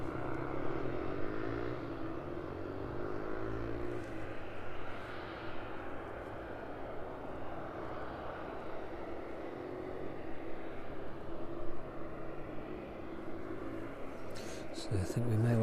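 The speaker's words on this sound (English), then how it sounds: "The aircraft ready to push back" A parked airliner waits for pushback at East Midlands Airport, its engines or auxiliary power giving a continuous distant drone with a soft whine, steady and moderate, with faint ground noise and a brief clatter near the end.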